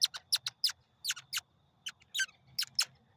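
A handheld Audubon bird call, a metal piece twisted inside a rosined wooden dowel, squeaks in a rapid series of short, high chirping bursts, about a dozen close, bright twitters with brief gaps, loud and alone.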